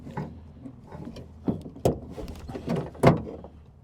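An Acura TSX door handle and lock mechanism actuate in a close series of hollow clunks and plastic clicks, with several sharper knocks spaced unevenly over a few seconds of quiet background.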